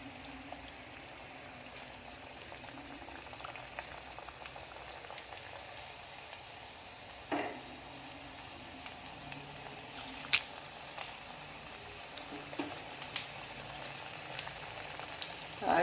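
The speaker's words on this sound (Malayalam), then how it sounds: "ഇനി നമുക്കിതൊരു ചൂടായ എണ്ണയിലോട്ട് ഇട്ടൊന്ന് ഫ്രൈ ചെയ്തെടുക്കാം." Potato smiley snacks fry in hot oil with a continuous soft bubbling sizzle, steady and low, with a few faint clinks and taps of utensils here and there.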